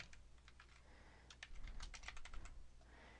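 Someone types a username and password on a computer keyboard, a soft scatter of keystrokes that quickens into a denser burst of close, quiet clicks before easing off.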